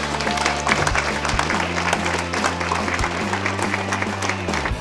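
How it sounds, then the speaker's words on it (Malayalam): Audience at a karate championship award ceremony breaks into sustained applause, dense clapping from a sizable crowd under a steady background of music or PA hum, continuing loudly throughout. "കയ്യടി വീണ്ടും."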